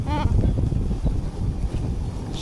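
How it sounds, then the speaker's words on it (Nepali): Wind roaring and buffeting against the microphone while riding a motorbike on the road from Hetauda toward Palung: a loud, continuous low rumble with gusty swells, and a brief voice at the start. "अहिले यस्तो बाइकमा हिँड्दा यस्तो हावा आउँछ नि, सर हावा आउँछ"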